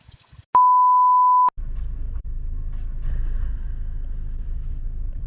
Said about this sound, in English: we need to get a battery for this goddamn key that keeps beeping